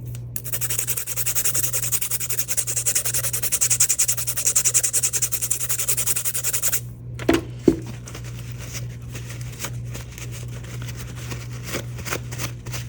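Steady dry scraping and rubbing of a tool trimming a hard-cured resin casting, continuous for about seven seconds, then a pause with a couple of sharp knocks and quieter intermittent scraping over a constant low hum.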